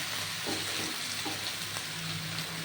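Vegetarian Malabar spinach vegetable curry frying in a covered pan over low heat, a steady faint sizzle and hiss throughout with a few light clicks, no voices.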